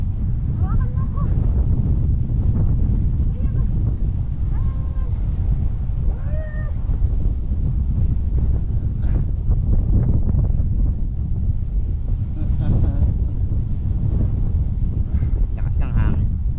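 Strong cold wind buffets the microphone during a ride on a pedal bicycle, a loud, continuous low roar lasting throughout, with voices faintly heard beneath it.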